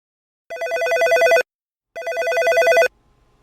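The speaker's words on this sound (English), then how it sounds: "Another 911 call came in." An incoming 911 emergency call makes a dispatch telephone ring twice, two clean electronic bursts of about a second each with a short silence between them.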